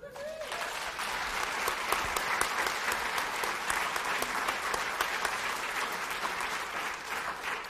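Sustained applause from an audience following a political speech by the Massachusetts governor, steady and dense across the whole stretch with no voices over it.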